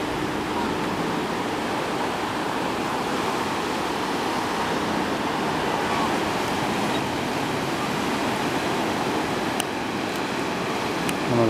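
Waves rolling onto a beach on Maui's north coast make a steady, unbroken roar of surf that stays even and fairly loud throughout.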